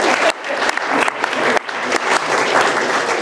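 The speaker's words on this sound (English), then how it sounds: "Round of applause for candle lighting." Guests at a humanist ceremony break into full applause after candles are lit, a dense, loud wash of clapping that holds steady throughout with a few brief dips.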